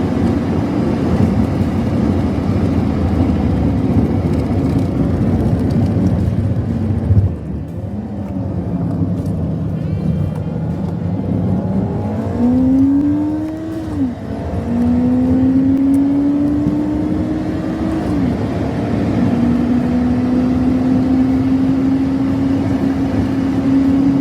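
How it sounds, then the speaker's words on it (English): Diesel engine of a Honda Civic running, sped up to double speed so it turns into a steady, high-pitched motorised whir with rising and falling tonal sweeps, loud and continuous throughout. "The Civic oil burner's engine sounds quite funny when it's played at double speed."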